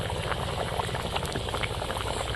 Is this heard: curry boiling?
yes